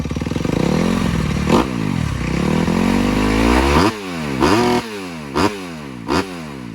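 A 2021 Kawasaki KX250 motocross bike with a Pro Circuit full exhaust system fires up and revs hard nearby, its sharp, buzzing engine note sweeping up and down before settling into repeated short throttle blips.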